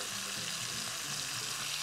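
Meat sizzles and fries steadily in a pan with oil, a continuous close hiss with faint crackles and no talking.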